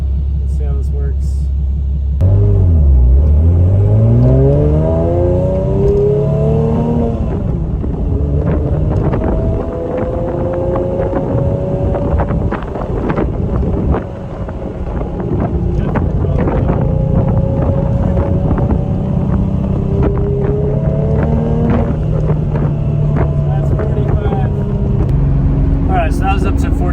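A car fitted with headers and a Top Gear full exhaust revs up to about 4,500 RPM with a rising drone, then settles into cruising at around 3,000 RPM in third gear, loud and droning under wind buffeting.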